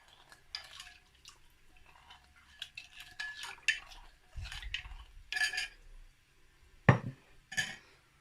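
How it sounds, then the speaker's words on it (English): Milk being mixed into pastry dough for a homemade meat pie in a bowl: quiet, sporadic clinks and scrapes of a utensil against the bowl with soft wet stirring in between. "I'm going to add milk. I'm going to mix."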